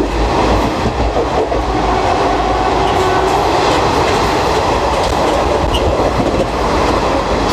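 Garib Rath Express running at speed through Mumbai suburbs without stopping, a loud continuous rumble with rhythmic clickety-clack of wheels over rail joints, heard close from inside the coach throughout.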